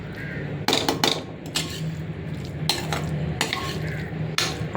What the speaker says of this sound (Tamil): இப்போ வந்து சாதத்தை போட்டு கலந்துருவோம்.